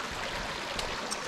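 A waterfall at Placerita Creek, near the Newhall and Santa Clarita urban area, gives a steady, fairly faint broadband rush of falling water that runs unbroken and alone.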